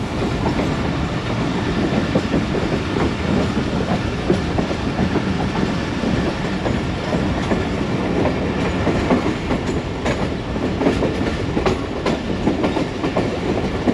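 The Rehman Baba Express, hauled by a GMCU-15 locomotive, runs at Lala Musa Junction in Pakistan. A loud, continuous rumble with rhythmic clickety-clack of the wheels carries on steadily throughout, heard from on board.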